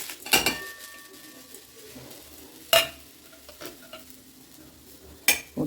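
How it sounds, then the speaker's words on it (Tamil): Coriander seeds, dried chilies, fennel and cumin roasting together in oil in a pan, heard as a few sharp, close scrapes and clinks of a spoon against the pan over a faint, low sizzle, with quiet gaps between strokes. "இந்த எண்ணெயில் நம்ம இந்த மல்லி, மிளகாய், சோம்பு, ஜீரகம் எல்லாத்தையுமே நம்ம சேர்த்து வறுத்துக்கலாம்."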